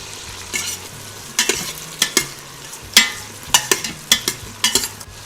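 Vegetables and green peas being stirred and fried in a pan for Maharashtrian masale bhat, with a steady soft sizzle broken by repeated scraping stirs in short bursts, close and clear with no talking.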